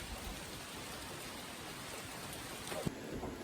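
Steady rain pours down on the Appalachian Trail in a dense, even hiss, with a faint thump of thunder or a drop hitting close by near the end.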